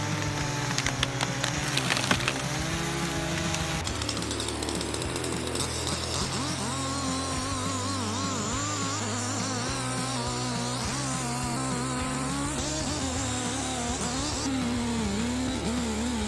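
A chainsaw engine runs steadily and loud for the whole stretch, its whine wavering in pitch as the sharp-toothed chain spins around the metal guide bar during logging work, with a rougher burst near the start.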